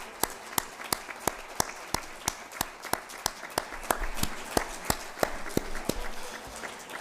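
Applause for colleagues at a closing address, a room of people clapping steadily with distinct sharp claps in a loose rhythm, the sound swelling slightly toward the end.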